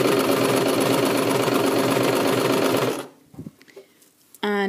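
A sewing machine stitching around a tunic armhole runs fast and steady with a dense mechanical whirr for about three seconds, then stops, followed by faint handling noises and a brief short burst at the end.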